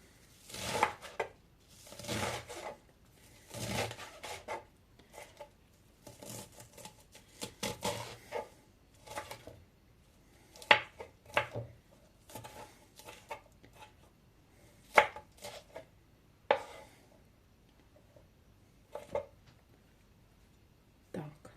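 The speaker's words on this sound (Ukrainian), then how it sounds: "І ці квадратики будемо шматками десь такі по пів сантиметра нарізати." Food being sliced with a knife into small rectangular pieces about half a centimeter wide for a salad, repeated muffled cutting knocks in uneven runs and pauses, fairly quiet and close.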